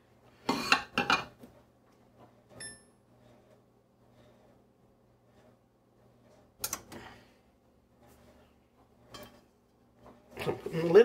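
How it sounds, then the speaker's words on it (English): A lid clattering onto a cooking pot of bean stew on the stove, a few sharp metallic clanks spaced apart with quiet pauses and faint kitchen handling noises between. "So putting the lid on to get it up"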